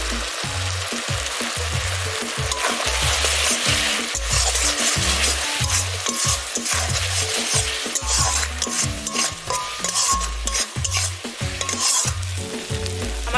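Spice masala of salt, turmeric, Kashmiri chili powder and cumin powder frying in oil for a thin egg curry, with a constant loud sizzle and rhythmic scraping knocks of a spoon stirring in the pan, close up.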